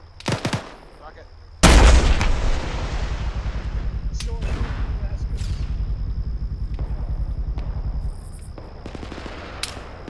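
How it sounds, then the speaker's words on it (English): A tank fires its main gun during a military field exercise, one loud sharp boom followed by a long rolling rumble, with other sharp cracks and bangs and background voices from a radio or nearby soldiers. "Tank is shooting over here now."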